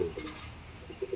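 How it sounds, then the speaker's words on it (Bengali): An adult female Madrasi pigeon gives soft low coos, a few short murmuring calls close by against a quiet background. "ধাড়ি মাদি পায়রা"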